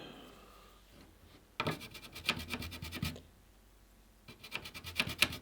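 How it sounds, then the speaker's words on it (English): A fiberglass pen scrapes corrosion off an Amiga 2000 circuit board in two bursts of quick, rhythmic rasping strokes, close and fairly loud, with a quiet pause between them. "scratch away the corroded stuff."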